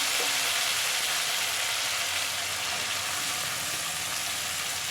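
Chopped tomato fries in a spice masala for a mutton dal gosht, cooked until the oil separates. A steady, dense sizzle continues unbroken and close throughout, with no voices.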